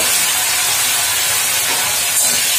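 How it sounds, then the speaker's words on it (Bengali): Okra sizzling in hot oil with tempering spices for a vegetable sour fish curry, a dense, steady, loud hiss and crackle throughout with no talking. "একটু ঢেঁড়স, আমি ফোড়নের সঙ্গে অবশ্যই ঢেঁড়সগুলো বেজে নেব"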